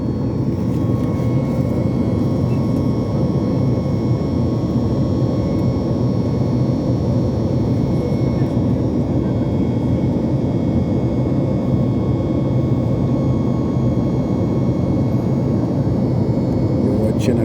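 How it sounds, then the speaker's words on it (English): Steady, loud aircraft engine roar fills an airplane cabin interior, a constant broadband drone with a faint tonal whine, continuous throughout without pause. "Right inside the aircraft."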